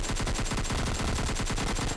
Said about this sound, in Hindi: और AKM से इनको फिनिश कर देता हूँ